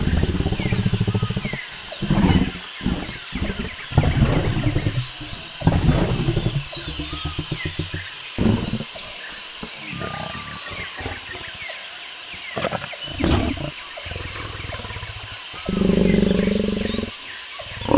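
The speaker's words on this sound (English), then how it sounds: "Lion." Lions roaring in deep, rumbling bursts, several loud calls repeating with pauses between them, close and heavy, with a high steady tone coming and going on top.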